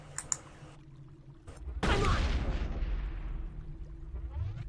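Pistol fire in the Mass Effect video game, a few sharp shots at the start, then a long loud burst of rapid gunfire and rumbling explosions that slowly tapers off.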